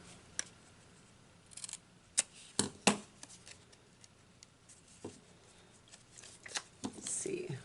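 Scissors snip a small piece out of a paper card, making a few sharp, close cuts scattered among quieter rustling and handling of the card. There is no talk.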